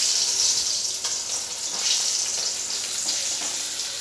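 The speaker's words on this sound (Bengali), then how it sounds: "মাছগুলো ভাজি।" Fish frying in a pan, a continuous loud hissing sizzle with small crackles and pops throughout.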